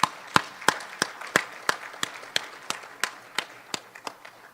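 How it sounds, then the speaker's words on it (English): Clapping from a small gathering at a memorial scholarship foundation event, sharp distinct claps in a steady, fairly sparse rhythm, moderately near, with no talking. "I want you to give yourselves a round of applause for doing what you do."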